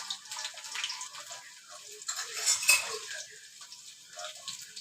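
Onion and garlic paste is stirred in a pan, with light metallic scrapes and clinks of a spoon over a faint, watery sizzle, peaking in a brief, brighter scrape midway.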